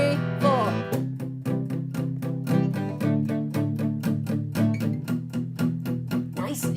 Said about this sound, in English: It's called palm muting.